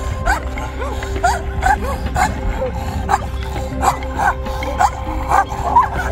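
A fierce dog outdoors at night barks and yips in short repeated bursts, about a dozen sharp calls at an uneven rhythm over a steady low background hum.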